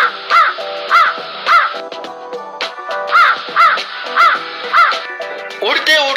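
Several crows caw in a steady series of harsh repeated calls, loud and close, with a voice talking over them throughout.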